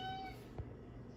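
Meowing from small cats in a home kitchen, a short meow with harmonic tones standing out near the start over low background noise, fairly close.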